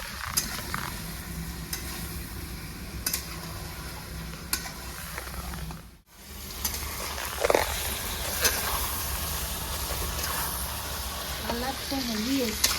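Ground turmeric, chilli, cumin, coriander and black pepper frying with a little water in a pan for chicken tehari: a continuous close sizzle with regular stirring scrapes and clinks, a brief break partway, and a faint bit of background noise.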